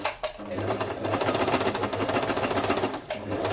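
An electric sewing machine, freshly cleaned and oiled, runs steadily at speed, a fast even mechanical whir and rattle that holds for a few seconds before briefly pausing.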